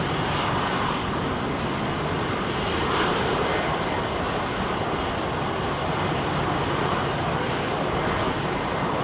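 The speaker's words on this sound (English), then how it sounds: "Touchdown on the southern runway." Airliner landing on the southern runway at London Heathrow in windy conditions, a steady broadband jet roar that holds loud and constant throughout with no talk.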